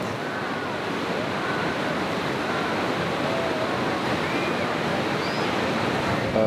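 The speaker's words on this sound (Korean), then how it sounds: "바위 절벽에 메아리치는 우렁찬 물소리." Continuous roar of rushing river water echoing off the rock cliffs of Tiger Leaping Gorge, a dense loud wash of sound with no pauses.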